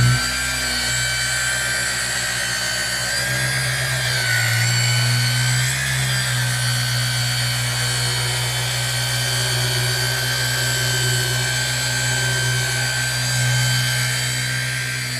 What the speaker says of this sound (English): I really don't love this polisher.